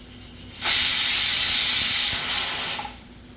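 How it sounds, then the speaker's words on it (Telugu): A pressure cooker with rice whistles on high heat, letting out one loud, sustained hissing blast of steam lasting about two seconds before it tapers off, heard up close with nothing else over it. "తర్వాత మనం ఒక 4 విజిల్ కొట్టించుకుంటాము"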